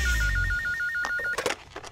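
A telephone rings with a steady electronic warbling tone in a short repeating pattern, followed by a few knocks and thumps, with no talking.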